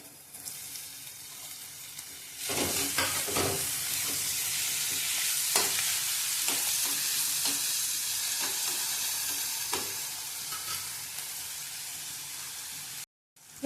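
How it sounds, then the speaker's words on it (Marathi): Tomato stirred and fried in oil while cooking a dry sukat (dried shrimp) dish, a steady close sizzle broken by repeated scraping stirs, then a sudden brief silence near the end. "त्यातच आपण टोमॅटो टाकून भाजून घेऊया"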